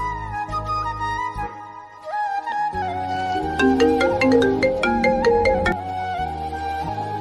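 A mobile phone rings with a melodic, musical ringtone that plays continuously and loudly for several seconds, with no talking.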